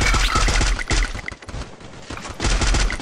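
Gunfire in Garena Free Fire, a factory-map match: loud, rapid bursts of automatic shots in close succession with a brief lull in the middle before another volley, with no talking.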